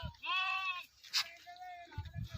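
Farm sheep bleat up close in two wavering calls, the first louder and the second softer, with brief rustling and handling noise around them in a quiet rural setting.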